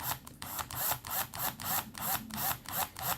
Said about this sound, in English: I'm going to tighten this down.